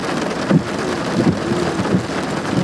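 A thunderstorm with steady, dense rain hissing on surfaces and a low rumble of thunder throughout, with soft thuds and no voices.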